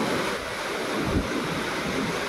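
Strong sea waves surge toward a shore battered by a typhoon, a steady, loud wash of surf mixed with wind rumble that runs unbroken throughout, with no voices.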